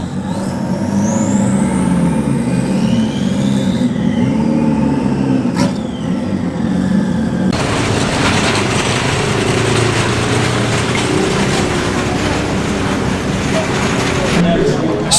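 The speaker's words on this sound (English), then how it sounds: "All the cars are lining up in the assembly area to be sound tested to make sure they're not too loud." British GT race cars, including a BMW M4 GT4, idle and rev in the assembly area at Oulton Park Circuit during noise testing, a loud continuous rumble with rising engine whines, with someone talking over it.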